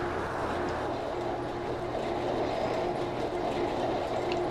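A tram rolling on rails in the video game OMSI 2, a steady loud rumble of wheels on track with a faint rhythmic clatter throughout.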